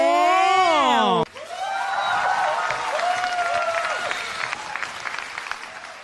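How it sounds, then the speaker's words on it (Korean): A crowd applauds to welcome a tenor, with steady, fairly loud clapping that follows a brief swelling musical tone at the start and carries on for several seconds. "여러분 큰 박수로 맞아주시기 바랍니다"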